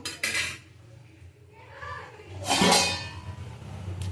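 Metal pot clatter as a lid is set over a cooking pan simmering with a little water, a sharp clink near the start and a louder scraping clank mid-clip, close and alone with no talk.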